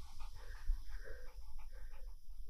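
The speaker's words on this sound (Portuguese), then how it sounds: "Muito belíssimo cachorro!" A dog pants close by in quick, rhythmic breaths over a low rumbling background, with no voices.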